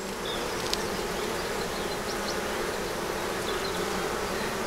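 Honey bees buzz steadily around an opened hive during a spring inspection, a dense, continuous hum close by that holds level throughout, with no talking.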